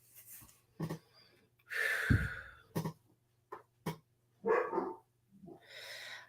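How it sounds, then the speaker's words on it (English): A dog barks in short, separate yaps scattered over several seconds, fairly close but moderate in level, with quiet pauses and faint breathing between barks. "I was hoping the dogs wouldn't bark up, but one of them's starting."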